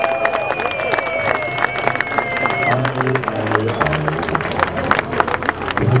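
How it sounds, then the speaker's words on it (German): Crowd at an outdoor Hanfparade cannabis rally in Berlin applauds and cheers, a dense wash of claps and voices with a whistling tone and murmuring babble underneath. "Deshalb einen dicken Applaus für den Herausgeber des Handjournals"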